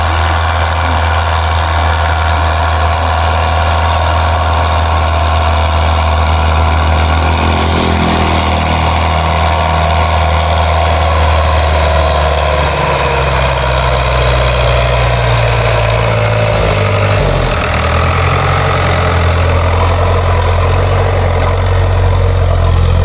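A tractor engine idles loudly and continuously during rice straw baling, a heavy rumbling drone with slight shifts in pitch, close by and with no voices.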